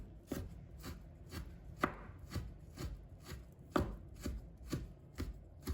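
A knife chops preserved radish (菜脯) on a board in steady, even strikes, about a dozen sharp cuts in quick succession, close and distinct, with no talking.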